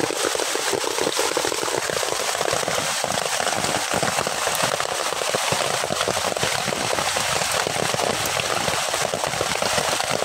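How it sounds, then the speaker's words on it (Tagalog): Heavy rain pours steadily on an outdoor mudflat during solo mud crab hunting, a dense, constant loud hiss of drops hitting surfaces throughout with no pauses. "Tapos malakas pa ang ulan."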